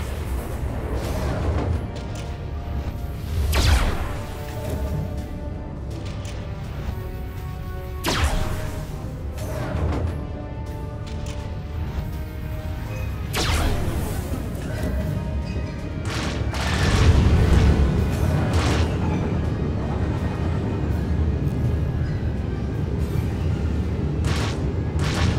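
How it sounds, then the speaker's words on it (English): Missile impact explosions in a Star Wars: The Old Republic galactic starfighter space battle: repeated deep booms and blasts over a continuous roaring, whooshing combat soundscape, loud and sustained with several heavier hits. "Brace for missile impact."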